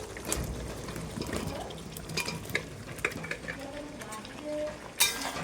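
Fried potatoes are stirred into a cooked spice mix released of its oil in a pan, with soft scraping, clattering spoon knocks and faint sizzling over a low background, plus a sharp clank near the end.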